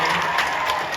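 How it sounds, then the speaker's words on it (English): An audience at a live Q&A panel session claps in a dense, steady round of applause that fills the whole short moment without pause. "Give yourselves a round of applause for being an incredible audience here today."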